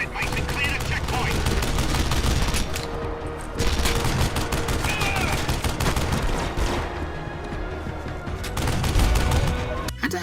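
Turret gunfire in a Red Faction Guerrilla checkpoint battle: dense, loud fusillades of rapid machine-gun bursts and shots roll on almost without pause, with booms mixed in and voices talking beneath the shooting.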